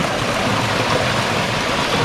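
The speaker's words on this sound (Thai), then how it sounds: "เรามาถึงน้ำตกบ่อวีแล้วครับ" A steady, dense roar of rushing water from the Bo Wi waterfall, continuous and fairly loud, with no voices.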